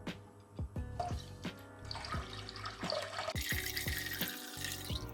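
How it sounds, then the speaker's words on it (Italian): Red wine poured into a pot of still-cold water for spaghetti, a steady liquid splash with a few sharper knocks and clinks, close and fairly loud, with no voices. "Mentre l'acqua è ancora fredda aggiungo all'interno di quest'acqua il vino rosso."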